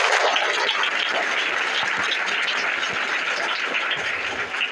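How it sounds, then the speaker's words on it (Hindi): A school audience at a Vidya Bharti prize-giving ceremony in Azamgarh applauds the first-prize winner. The clapping is a dense, steady wash that holds loud throughout and tapers slightly at the end. "आप लोग तालियां बजाइए इनके लिए"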